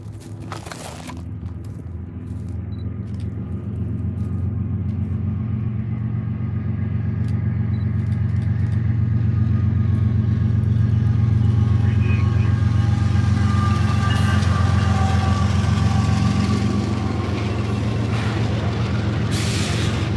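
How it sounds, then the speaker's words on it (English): A Norfolk Southern freight train rolls past at Oakdale, Tennessee, in a long, heavy rumble that builds and then stays loud and sustained, with faint scattered clicks at the start. "Oh, here's another train."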